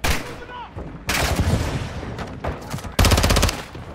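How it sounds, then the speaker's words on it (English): Rocket and gunfire in Modern Warfare 2, loud bursts of shooting and heavy blasts in several waves, ending in a rapid, rhythmic automatic volley, with no one talking. "crash site is taking rocket fire from building two"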